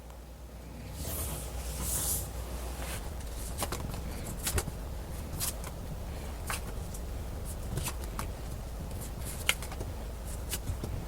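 Tarot cards being shuffled and drawn, with quiet papery riffles, soft slaps and sharp flicks spread across the whole stretch, close and fairly faint, no talk.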